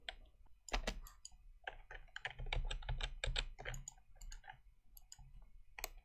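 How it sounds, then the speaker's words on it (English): Quick bursts of keystrokes on a computer keyboard, irregular clicks bunched into runs with short pauses, close and fairly clear with no talking. "Now let's type in align items."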